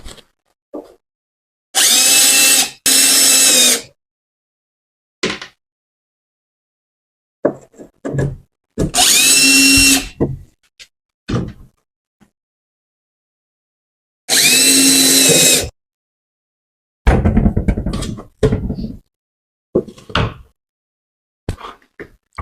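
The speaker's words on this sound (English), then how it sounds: "Valance and bench screws and brackets. I'm going to screw them into here first." Power drill driving screws into valance and bench brackets during an RV dinette makeover: several loud bursts of whirring, each a second or two long, separated by pauses with small knocks and handling clatter.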